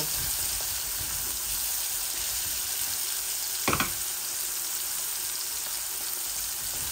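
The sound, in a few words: onion frying in a pan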